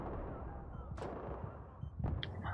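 In Battlefield 3, during a Conquest match on the metro map, two sharp gunshots crack out about a second apart over a dense, noisy bed of game sound.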